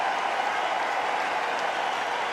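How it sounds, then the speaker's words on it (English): Steady applause from a T20 international cricket crowd between India and West Indies, greeting a batsman's first half century; dense, continuous clapping with no gaps, loud and close throughout. "And his captain applauds him."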